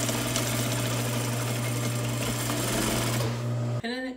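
A sewing machine runs steadily, closing up the side seam of a peplum top, with a loud continuous motor drone that stops abruptly near the end, followed by a brief clatter.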